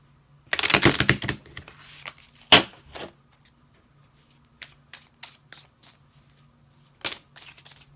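Tarot cards are shuffled in a close, crisp riffling burst, followed by a sharp slap and scattered light flicks and taps of card handling, with quiet gaps between.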